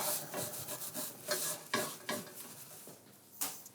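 A cloth or paper wipes oil around a cast iron pan in quick, repeated rubbing strokes, close and moderately loud, with no one talking.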